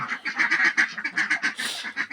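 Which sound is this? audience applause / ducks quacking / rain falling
ducks quacking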